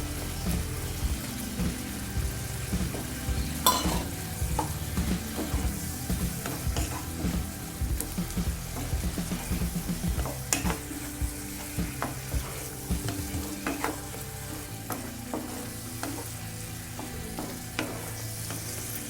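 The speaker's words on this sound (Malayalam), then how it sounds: "നല്ലപോലെ ഫ്രൈ ആക്കി എടുക്കണം. നല്ലപോലെ അത് റോസ്റ്റ് ചെയ്യണം." Chicken pieces fry and roast in a pan for chicken handi. A continuous, close sizzle carries repeated scraping and stirring clatter throughout, with no voices.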